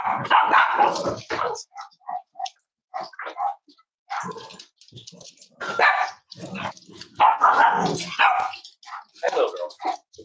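Several Cavalier dogs bark and yip in excited bursts, close by, with a person talking among the barks.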